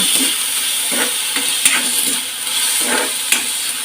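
A banana flower stir-fry is stirred in a pan: repeated scraping and tossing strokes over a soft, continuous sizzle, close and without talk.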